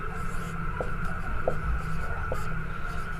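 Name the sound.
writing a statement on the board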